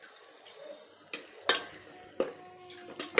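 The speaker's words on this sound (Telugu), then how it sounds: "ఇలా బాగా కలిపేసుకోవాలి" Goat head curry mixture with salt and tomatoes being stirred in a pot, a few soft scrapes and clinks of the spoon against the metal over a faint background hum, close and quiet.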